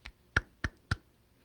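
Four crisp hand claps in a quiet room, one short burst followed by three louder evenly spaced claps, close and alone with no talking.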